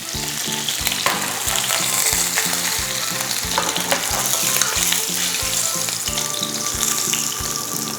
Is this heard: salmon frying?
yes